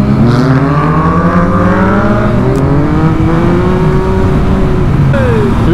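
Yamaha MT-09 motorcycle being ridden: a loud, close engine roar whose pitch climbs steadily through the gears, then drops near the end, with wind noise and no audible talk.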